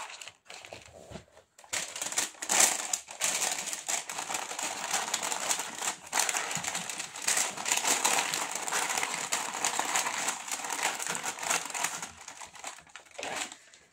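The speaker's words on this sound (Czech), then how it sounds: "Takže do krabice si dám už obě klíčenky, přidám dáreček a taky děkovnou kartičku." Keychains, a small gift and a thank-you card being packed into a box for a Vinted order, with close, continuous crinkling and rustling of packaging and paper punctuated by small knocks.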